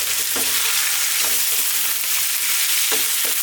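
Chicken pieces sizzling in a pan over a lively above-medium heat, a steady bright crackle broken by a few scraping stirs, close and alone without talk.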